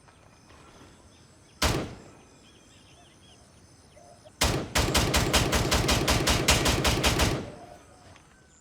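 Gunfire in the Gray Zone Warfare shooter game: one loud lone shot, a pause, then a rapid automatic burst of about a dozen sharp reports lasting nearly three seconds.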